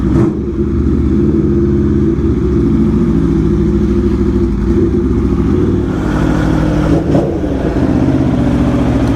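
Aprilia Tuono V4 motorcycle being ridden, its engine a steady, loud, close drone with a dense harmonic growl that holds nearly constant throughout, with slight swells at the end.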